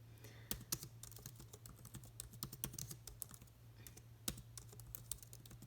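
Fingers type on a computer keyboard, a quick irregular run of soft clicking keystrokes with a few sharper taps, close but quiet, with a faint hum underneath.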